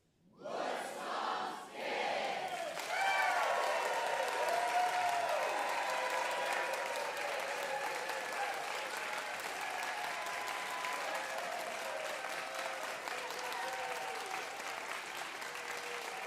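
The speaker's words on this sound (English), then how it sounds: "then applaud like crazy" A live music show audience first calls out together in a loud group shout, then bursts into sustained, vigorous applause with whoops and cheers that stays loud and dense for the rest of the stretch.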